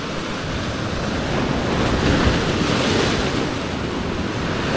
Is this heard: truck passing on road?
no